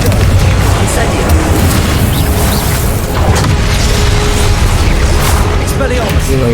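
Confringo and Incendio spells burst during a Hogwarts Legacy fight against a giant guardian, a dense, loud rumble of booms and fiery blasts running continuously, with a voice speaking over the chaos.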